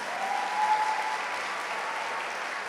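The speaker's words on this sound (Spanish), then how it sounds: "Dele una ofrenda de palmas al Señor y tome su lugar." A church congregation claps in sustained, dense applause offered to the Lord, a steady wash of many hands filling the room without pause.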